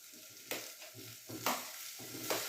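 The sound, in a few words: spring onions simmering in a pan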